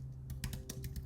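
Quick, light keystrokes on a computer keyboard come in a short burst of clicks, close and fairly quiet, with no voice over them.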